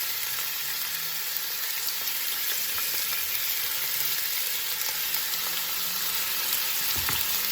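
Sliced steak sautéing in vegetable oil in a pan, a steady dense sizzle that runs without a break, close and fairly loud, with no voices over it.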